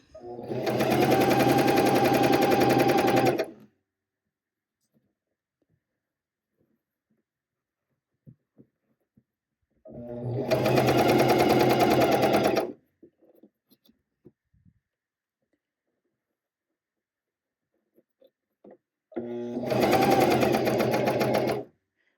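A cover stitch machine sews fold over elastic binding onto slinky bamboo knit fabric in three bursts of steady rapid stitching, each a few seconds long, separated by quiet pauses with faint handling clicks.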